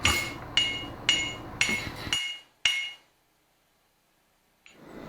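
A blacksmith's hammer squaring a custom touch mark on the anvil, five sharp ringing strikes in an even rhythm, then a pause and a softer final sound, loud and close.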